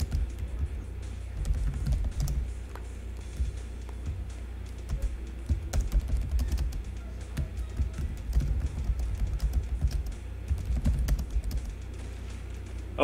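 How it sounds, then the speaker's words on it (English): Fast typing on a computer keyboard during a game session, with dense, irregular key clicks and clacks in uneven bursts that continue steadily and sound close to the microphone. "What are you typing?"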